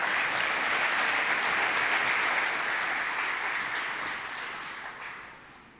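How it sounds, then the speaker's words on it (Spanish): Sustained audience applause welcoming a speaker at a conference on globalization and development, full and even at first, then gradually tapering off toward the end. "Un aplauso, por favor, para él también."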